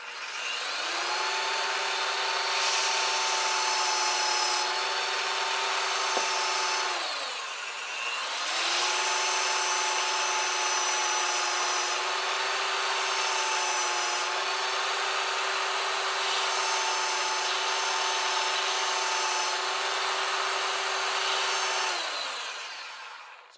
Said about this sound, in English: belt sander, gonna be loud.